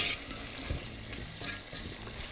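Vegetables fry in a pan with a soft, even sizzle and light stirring, quiet and close, with no voices over it.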